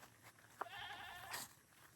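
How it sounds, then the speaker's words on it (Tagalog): A single drawn-out goat bleat sounds from somewhere below on a rural plot, quiet and a little distant, rising over faint background noise. "Ayan ang kambing ko. Ayan, nandun sila sa baba."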